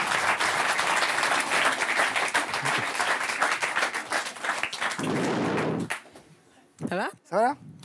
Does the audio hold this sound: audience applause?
yes